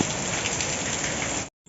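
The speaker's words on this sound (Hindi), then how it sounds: "मस्त बारिश हो रही है अभी।" Heavy rain pouring steadily on the night of a Krishna Janmashtami celebration, a dense continuous hiss of drops on surfaces, loud and close, with no voices, cutting off abruptly near the end.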